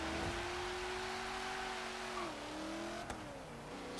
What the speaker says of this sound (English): one of the best things about this car is the engine